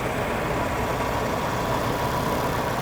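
A Mitsubishi Kuda engine idles with the air conditioning on while its carburetor RPM is being adjusted, giving a steady, close, even rumble without pauses or talk.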